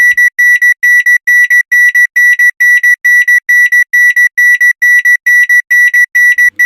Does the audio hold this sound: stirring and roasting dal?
no